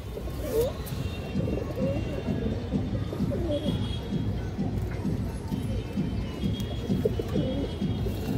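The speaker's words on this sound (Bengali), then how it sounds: "এই দেখেন লাল মাখা চোখের কবুতর সেম" A red-eyed pigeon pair coos in repeated low, throaty pulses beneath a steady, dense background hum and murmur of a busy loft, the calls continuous rather than distinct.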